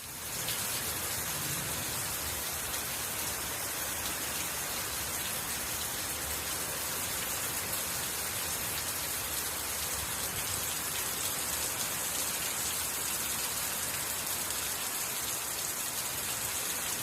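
Steady, dense downpour of torrential rain in Marseille, France, hissing continuously at close range, with no voices and no letup.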